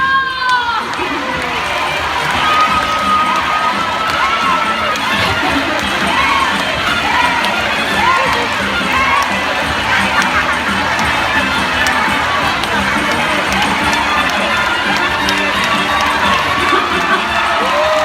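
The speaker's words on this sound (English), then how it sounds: "Now Zonda supporters, you gotta cheer much louder." A large crowd of spectators, many of them children, cheers and shouts loudly and continuously at a macaw show in a bird park, with whistles and squeals rising over the steady roar.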